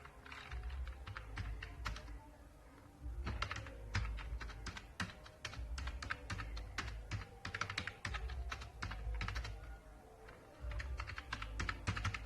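Fast, steady clicking comes from someone typing on a computer keyboard in Microsoft Word, with short pauses between bursts of close, crisp keystrokes.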